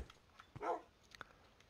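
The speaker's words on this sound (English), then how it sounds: "What the hell, my friend dog?" A single faint, brief dog bark from a dog in Minecraft, quiet against a low background.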